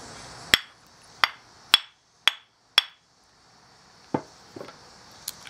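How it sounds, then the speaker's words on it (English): Light taps of a tool along a line in rock matrix while cleaning a trilobite fossil: five sharp, evenly spaced taps, then a few softer, scattered knocks, close and crisp against quiet. "I'm just going to gently tap along that line. Don't have to go fast."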